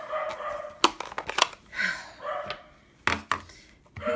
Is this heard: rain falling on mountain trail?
no